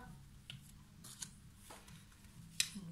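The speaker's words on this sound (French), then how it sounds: "j'étale les cartes, je les dispose" Tarot cards are spread out and laid down on a table, giving a few soft slides and light taps, brief and close, over a quiet room hum.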